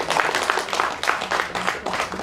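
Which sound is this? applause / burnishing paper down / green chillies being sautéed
applause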